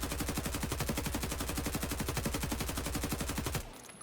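Rapid sustained automatic fire from an RPK machine gun in the game Escape from Tarkov, a steady loud burst of evenly spaced shots lasting over three seconds before cutting off into a brief tail.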